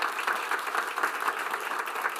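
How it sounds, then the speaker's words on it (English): An audience at a school district board meeting claps in a steady, dense round of applause, moderately loud and continuous without any talk over it. "So please give them a round of applause as well."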